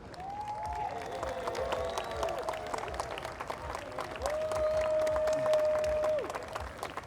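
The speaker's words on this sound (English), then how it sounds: "Ladies and gentlemen, I'd love for you to give a big round of applause to our reenactors." An outdoor crowd claps for historical reenactors at the Drake's Raid event in St. Augustine, with moderate scattered applause, a little cheering and a few sustained whistles over it.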